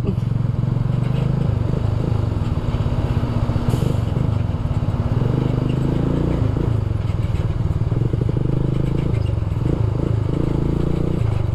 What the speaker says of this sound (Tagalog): Kaya advantage ng mga motor, pwede kayo sumingit, singit.